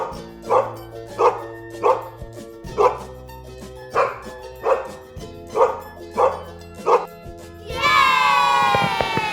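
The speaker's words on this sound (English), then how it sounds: "Dog माने कुत्ता।" A dog barks about nine times in a steady, evenly spaced rhythm, loud and close, then breaks into a high whining yelp at the end.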